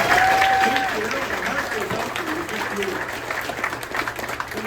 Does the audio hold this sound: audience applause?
yes